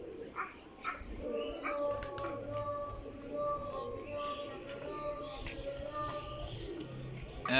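Pigeons coo softly at moderate distance amid faint outdoor background noise, with scattered brief calls through the stretch.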